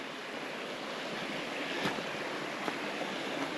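A river flowing at a major fork on a jungle hiking loop to San Carlos and Lonfit Falls in Guam, heard as a steady, fairly loud broadband rush of water with faint gusts of wind and no talk.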